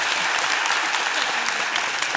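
Steady applause from a group, continuous clapping that fills the whole moment without letting up.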